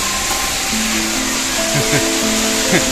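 Waterfall on Karanjade hill, a steady broadband rush of falling water that fills the whole clip, with faint tonal hums and brief sounds mixed in.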